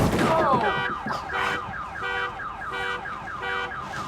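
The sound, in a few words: car alarm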